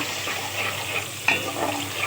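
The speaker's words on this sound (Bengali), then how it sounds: "মশলাটাকে আমি এখন কষিয়ে নিচ্ছি।" A spice paste sizzles and hisses in a pan as it is stirred and sautéed for a fish and pointed gourd curry, with a steady frying sound and one sharper scrape partway through.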